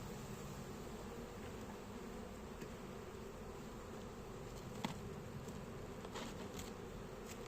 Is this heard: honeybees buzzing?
yes